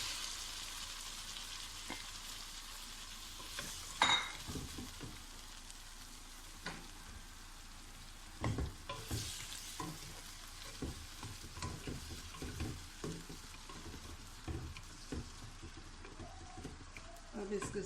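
Chickpeas stir and fry in a softened tomato masala for bazaar-style chole, a steady quiet sizzle under scattered scraping clicks of a spoon, with occasional louder knocks against the pan.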